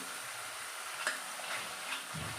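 A coconut and coriander masala paste with red chilli fries in oil in a pan, giving a soft, steady sizzle with a few faint stirring clicks and no voices.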